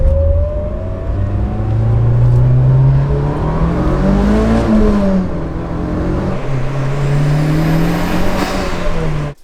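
Mitsubishi Evo 8 with a new air intake pulling hard in first gear, loud, close engine roar climbing steadily in pitch, dipping and climbing again before cutting off.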